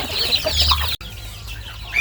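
Thai native chickens, including a hen with young chicks, clucking and murmuring nearby at morning feeding, a busy cluster of soft calls with a brief cut in the middle, then quieter clucks.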